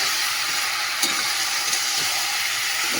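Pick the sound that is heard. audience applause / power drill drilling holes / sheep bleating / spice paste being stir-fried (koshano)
spice paste being stir-fried (koshano)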